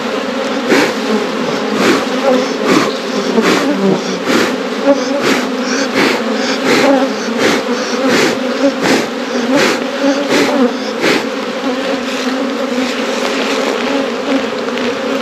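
Honey bees fly around an opened hive infested with hive beetles, a dense, close, continuous buzzing drone broken by regular faint tapping clicks.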